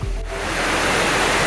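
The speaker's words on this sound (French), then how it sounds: "l'impressionnante cascade Éléphant rugit" Elephant Falls in Vietnam roars close by, a loud, dense, unbroken rush of falling water that fills the whole moment without pause.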